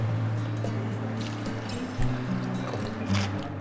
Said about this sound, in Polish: Następnie wlać piwo i wodę.